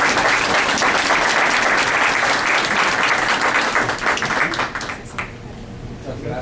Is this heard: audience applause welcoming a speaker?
yes